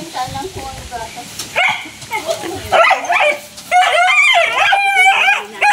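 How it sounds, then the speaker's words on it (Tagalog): Several dogs bark in sharp, repeated bursts close by at a home, with people talking over and between the barks. "Sabi mga aso."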